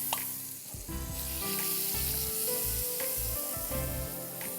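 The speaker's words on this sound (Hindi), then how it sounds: "कितना सिजल हो रहा है देखें" Butter sizzles against the hot plates of a waffle maker, a close, steady hiss with soft rubbing and scraping strokes layered on top and no talking.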